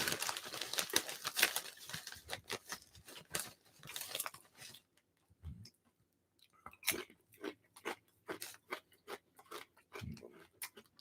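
Lay's honey habanero potato chips crunch loudly up close, a dense run of crisp bites followed by slower, spaced chewing crunches with brief pauses.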